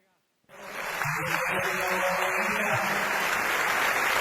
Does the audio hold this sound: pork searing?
no